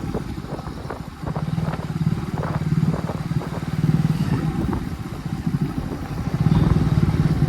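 A motorcycle riding on a rain-soaked road, its engine a steady, throbbing low drone that swells and eases with the throttle, mixed with wind and the hiss of wet tyres, close and continuous throughout.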